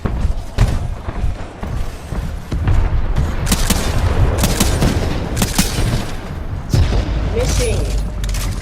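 Gunfire in a shooter game, EVA 8 auto shotgun matches with a grenade launcher: a run of loud booms and rapid shots with sharp repeated bursts, under excited talk.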